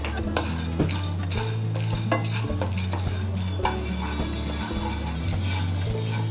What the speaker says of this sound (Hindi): हमारी चने की दाल भून के तैयार हो गई है